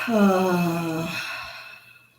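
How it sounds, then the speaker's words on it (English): A slow, voiced breath pushed out through the open mouth during a yoga exercise, starting strong and fading away over about two seconds, close and alone. "Let that air come out."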